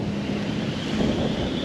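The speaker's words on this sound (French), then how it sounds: "Il y a du vent." Wind blows at a canal during fishing, a steady broadband rush buffeting the microphone, close and continuous throughout with no voices.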